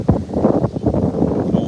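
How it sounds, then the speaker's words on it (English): Strong wind blows outdoors, buffeting the microphone with a loud, uneven low rumble that surges and dips throughout. "Oh, it is windy out here."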